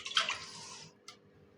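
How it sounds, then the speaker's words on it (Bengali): Hands washed under a small splash of water while cooking mutton biryani, a faint brief rush lasting under a second, then one short second splash. "হাতটা ওখানে ধুয়ে নাও"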